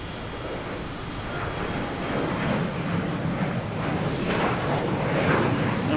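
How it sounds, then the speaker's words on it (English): A Delta airliner taking off at Boston Logan airport, its jet engines giving a steady broad roar that grows louder over several seconds. "Get a Delta taking off."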